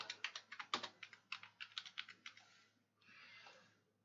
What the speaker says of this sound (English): Type in Tomb Raider.